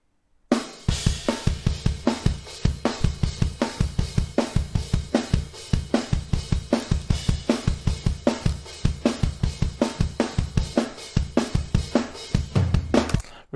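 Real drums played on a song recording made at Owlshed Studios drive a steady, loud rhythm of punchy kick and snare hits with cymbals, repeating evenly throughout; no voices.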